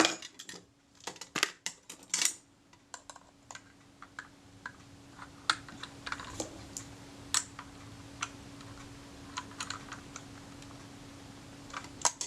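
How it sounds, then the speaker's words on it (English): Small metal clicks and ticks from tightening the retaining ring on a Kodak Retina IIa camera during servicing, sparse and close at first, then steadier light clicking over a faint constant hum. "I'm going to tighten that retaining ring now."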